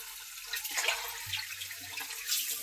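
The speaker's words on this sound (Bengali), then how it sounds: "ভালো করে পরিষ্কার করে ধুয়ে নিয়ে এখন চলে দেবো।" Running tap water splashes over freshly cut meat being rinsed clean in a sink, a steady broadband gush with small shifts as the pieces are turned and handled, no voices.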